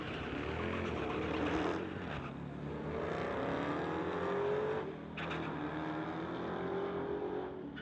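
A 2016 Dodge Hellcat at a drag strip roars under hard acceleration, its engine note climbing through gear changes, with a loud, sustained exhaust throughout and no voices.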